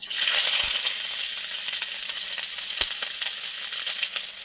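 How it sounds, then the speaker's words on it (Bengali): Chopped ginger and garlic frying in hot mustard oil, a bright crackling sizzle that flares loudly at the start and then settles into a steady hiss, with a couple of sharp utensil taps, close up and with no voices. "সরষের তেল দিয়ে দেবো, তেল গরম হয়েছে, আদা রসুন কুচি দিয়ে দেবো"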